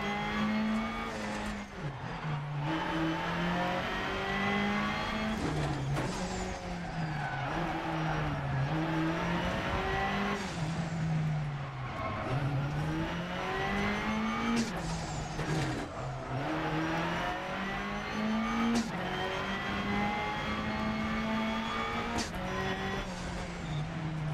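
Race car engine in the sim racing game AMS2, driven with a manual shifter at Imola or Kyalami, loud and continuous, rising and falling through repeated gear changes and revs with occasional tire squeal, no talking.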